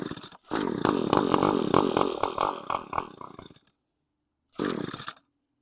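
Small two-stroke engine on full choke being pull-started, sputtering and popping in an uneven burst for about three seconds, falling silent, then giving another brief cough.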